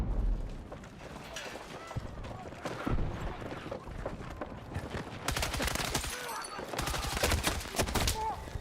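Bursts of rifle and machine-gun fire rattle across a Battlefield 6 Breakthrough battle, near and far volleys overlapping in dense rhythmic streams with distant explosions, the shooting cutting out and resuming amid the chaotic combat din.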